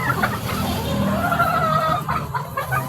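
A chicken clucks and croons in a low, drawn-out run of calls, close by, over a steady noisy outdoor background.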